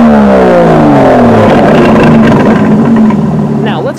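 An Aston Martin DB11 in Sport Plus mode gives a loud, harsh exhaust roar that rises and falls through the revs, fading slightly at the end, with nobody talking.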